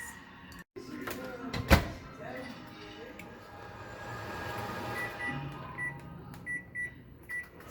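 A microwave oven running while it heats butter, a steady whirring hum with a door clunk near the start and a few short beeps toward the end.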